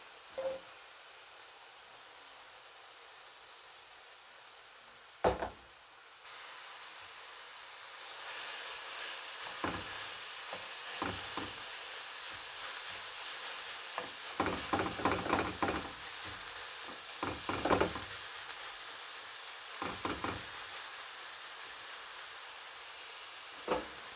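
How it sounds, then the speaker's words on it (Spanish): Meat frying with browned onion and garlic in a pan for gorditas in green salsa, a steady hiss of sizzling with bursts of crackling and popping that swell midway, close and alone. "Cuando la cebolla haya cambiado de color es momento de agregarle la carne."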